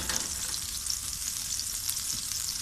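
Butter and oil sizzle steadily in a pan for a Shahi mixed-vegetable dish, a close, continuous hissing crackle with no pauses.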